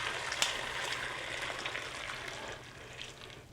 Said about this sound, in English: I'm going to run my stock through a strainer